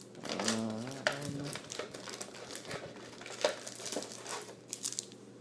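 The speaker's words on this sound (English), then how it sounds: "There is a pretend plastic thing on here that we can just remove." Plastic wrapping crinkling and tearing as it comes off a Yu-Gi-Oh card pack, close-up rustles and crunches in irregular bursts, with a brief voice murmuring at the start.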